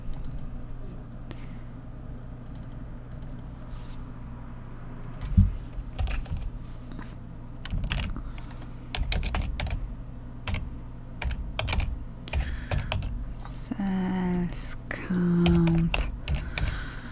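Rapid clicking of computer keyboard keys in uneven bursts, fairly close, over a steady low hum, with a few louder clacks and brief electronic tones near the end.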